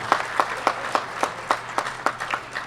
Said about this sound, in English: One more round of applause for these fine young